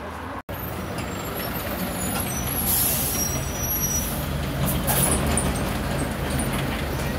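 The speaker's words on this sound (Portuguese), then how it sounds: "vamos utilizar este ônibus de transporte coletivo que nos levará até o Terminal Norte" A city bus in Joinville, southern Brazil, pulls in, with a sharp hiss of air brakes partway through over a steady engine rumble and street noise.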